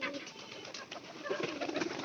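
A pigeon coos in a hand-feeding setting with straw nearby, soft repeated calls running steadily through the whole stretch at close range, with no talking.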